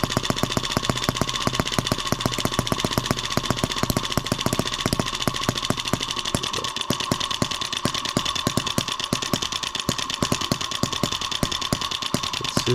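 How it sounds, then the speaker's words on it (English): An M25 sideshaft engine runs under throttle with a rapid, steady stream of sharp firing pulses, loud and close, keeping an even rhythm throughout. "It does respond to some throttle input."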